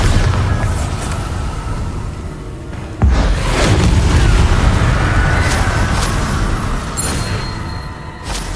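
A Bombarda spell blasts in Hogwarts Legacy: one sudden, loud, deep explosion lands near, and its rumbling roar and debris noise linger for several seconds over steady background combat sound.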